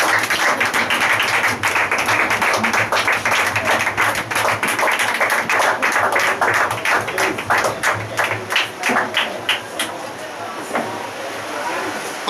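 A church congregation applauds loudly and steadily for about ten seconds, dense clapping that thins into looser individual claps toward the end, with some voices mixed in.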